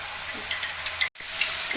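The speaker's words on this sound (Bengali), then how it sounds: "তো মশলাটা আমার ভালো করে ভাজা হয়ে গেছে।" A spice paste fries in a hot pan with a steady, close sizzle and crackle, broken by a short moment of silence midway.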